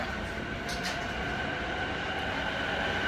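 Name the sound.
subway train at station near Narita Airport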